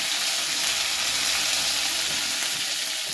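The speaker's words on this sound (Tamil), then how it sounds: "கடுகு நல்லா பொரிஞ்சிச்சு. பச்சை மிளகாய் ஆட் பண்ணிக்கலாம். அதோட கருவேப்பிலையும் ஆட் பண்ணிக்கலாம்." Mustard seeds, green chilli and curry leaves sizzle in hot oil for a tempering, giving a steady, close, loud hiss with no talk over it.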